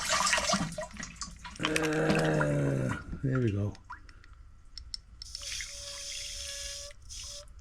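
Water poured into a rock tumbler barrel holding Yooperlites and agates, a splashing, trickling pour over the rocks with brief talk, then a quieter filling hiss with a faint whistling tone near the end.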